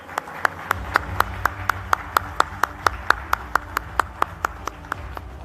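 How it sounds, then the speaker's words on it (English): Rhythmic clapping at a national media conclave, a steady train of about twenty sharp, evenly spaced claps over a low room hum, sounding more like a single pair of hands or a small group than a full audience. "Can we give him a big round of applause, please?"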